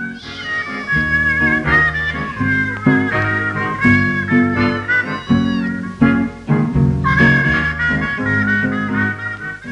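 A mother cat meows repeatedly, loud and close, in a series of drawn-out tonal calls of varying pitch with short gaps between them and no talking.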